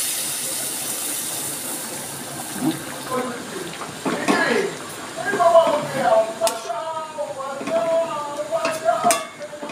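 Masala poured into frying pointed gourd with fennel in a pan, a sizzle and scraping stir building up with clinks of a spoon, while a person talks over the cooking sounds.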